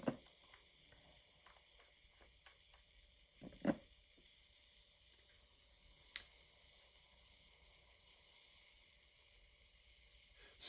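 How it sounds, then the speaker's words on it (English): Metal reacting vigorously with hydrochloric acid in a lab demonstration gives a faint, steady fizzing sizzle with a few soft clicks and taps, heard alone without talk. "I'm adding more hydrochloric acid so we can keep watching this nice vigorous reaction happening"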